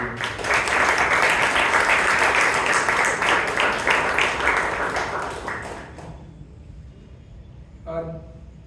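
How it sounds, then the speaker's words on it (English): Audience applause at a Toastmasters club meeting in Bangalore, a dense, steady round of clapping that fills most of the clip before stopping abruptly, followed by quiet room tone and a brief faint clatter near the end. "we should start with an applause"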